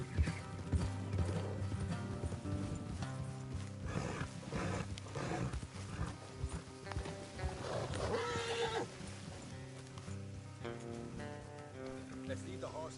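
Horses whinny and hooves clop in the video game Red Dead Redemption 2, mixed with music and ambient game sound, with a voice speaking briefly.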